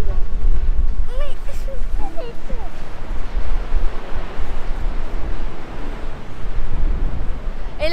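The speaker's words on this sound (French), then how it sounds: "Regarde là, tous les rochers et les grosses vagues." Big waves crash on rocks in a rough sea off the UK coast, a continuous roaring surge with strong wind buffeting the microphone and a voice talking briefly early on.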